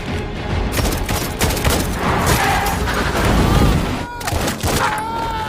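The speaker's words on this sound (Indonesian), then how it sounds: "Pak Dung malah tertembak dan harus kehilangan nyawanya" Gunfire in an action film: dense bursts of shots and booms over a busy soundtrack, loud and continuous, with a few clearer single reports near the end.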